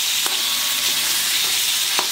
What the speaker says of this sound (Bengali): পেঁয়াজ, কাঁচা লঙ্কা, রসুন এই যে ভাজছি, এর মধ্যে কিন্তু আমি নুন হলুদ দিয়ে নিয়েছি